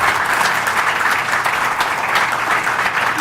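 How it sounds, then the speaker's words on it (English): At a school board meeting, an audience breaks into dense, sustained applause that carries evenly through the short stretch. "Again, I'm going to ask you please to hold your applause."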